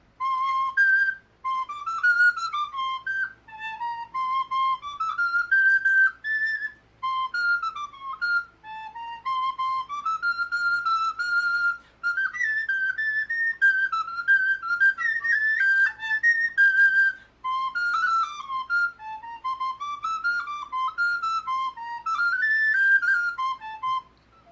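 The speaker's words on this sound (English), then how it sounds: "this is a sopranino, which means a little soprano, and it plays higher like a whistle." A tiny sopranino recorder plays a long, lively melody high and piercing like a whistle, in continuous phrases with brief breath gaps, close and clear with no talking.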